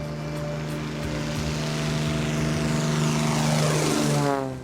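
A propeller airplane used for missionary aviation drones loudly and steadily throughout, its engine pitch shifting as it sweeps past near the end before fading slightly.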